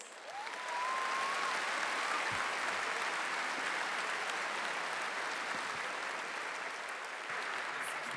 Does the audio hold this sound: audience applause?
yes